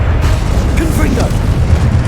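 A Confringo fire-blast spell exploding in the video game Hogwarts Legacy, heard as a loud, sustained, low rumbling boom with a voice briefly over it.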